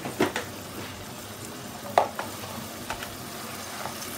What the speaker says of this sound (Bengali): এখন আমি মশলাটাকে কষাবো, ভালো করে মিক্সড করে দিলাম